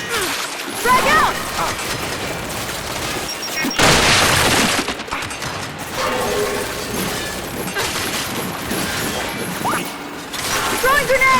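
Frag grenade blast from the Gears 5 video game: a loud broadband burst around the middle, set within busy game noise of shots and debris, with voices calling out across the scene.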